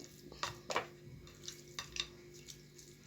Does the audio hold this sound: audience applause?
no